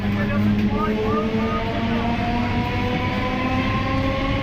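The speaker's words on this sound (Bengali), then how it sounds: "আমাদের ট্রেন মধুসূদনপুর ছেড়ে দিয়েছে" A moving passenger train on the Howrah–Bardhaman line rumbles steadily with rolling wheel noise and faint metallic squeals, heard from inside a carriage with voices talking beneath.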